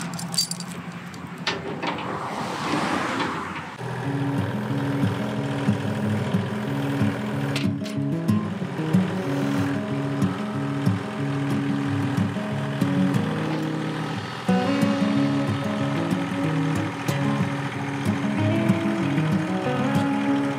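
A tractor engine runs steadily throughout, with a loud, continuous mechanical drone and rattling, clanking machinery as roots are scooped and loaded into its bucket beside a fire pit.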